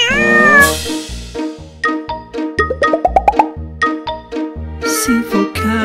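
A cartoonish domestic cat meowing in a children's song, several sung, tonal meows over a bouncy musical backing with a bright chime and jingle at the end.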